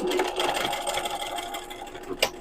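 A sewing machine back stitches over a fanny pack strap in one short, close, continuous burst of rapid mechanical stitching, ending with a small knock.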